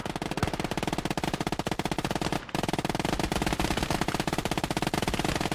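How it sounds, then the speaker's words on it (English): Rapid, sustained machine gun fire from a World War II Eastern Front strategy game rattles in dense bursts, with one brief gap midway, fairly close but moderately quiet and without talk. "Machine gun is doing okay."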